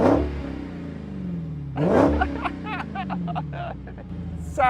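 A Dodge Challenger Hellcat V8 with a soft limiter around 4,500 RPM is revved loudly nearby, two big throttle blips rising and falling, followed by a rough, raucous burbling idle with crackles.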